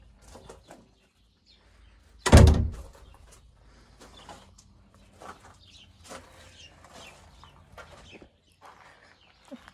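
A door swings open once with a sharp, loud knock-like burst in a quiet room of a rental home near Zion National Park that holds a traditional oven, then faint indistinct rustling and movement follow.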